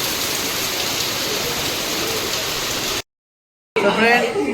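Heavy rain pours in a dense, close roar, then abruptly cuts to silence before rain and a voice return briefly.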